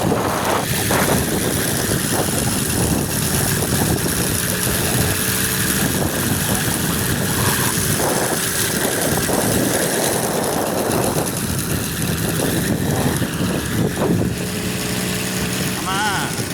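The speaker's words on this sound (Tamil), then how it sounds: "அசிங்கமாக அந்த வண்டியை நான் ஓட்டுறேன் T50." An old T50 two-wheeler engine runs continuously while being ridden, a loud, buzzing drone close by that holds steady for the whole stretch, with someone talking over it now and then.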